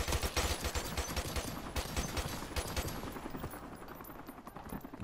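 Rapid automatic gunfire in the video game Call of Duty Modern Warfare Remastered: dense, close, punchy bursts for the first few seconds, then thinning into scattered shots that fade under the background game noise.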